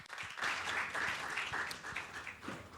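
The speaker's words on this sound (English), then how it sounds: "Round of applause, please." An audience at a forum session applauds a speaker welcomed to the stage, a dense, steady wash of clapping from a sizeable crowd that holds for a few seconds and begins to thin toward the end.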